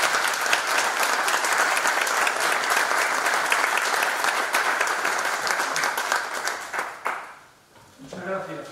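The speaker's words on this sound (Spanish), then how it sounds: "Un aplauso." Sustained, loud audience applause fills a book presentation for a speaker, steady for about seven seconds before fading out, with a voice starting to speak at the end.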